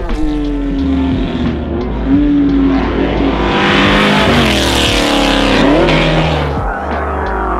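A Ford XA Falcon Coupe V8 race car engine roars loudly and continuously, revving up and down through gear changes with a rising and falling pitch.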